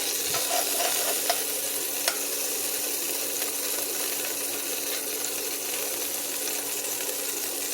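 Homemade beef tallow, rendered from trimmed beef fat, sizzling and crackling steadily in a pan, a continuous bright hiss with scattered small pops, close and alone.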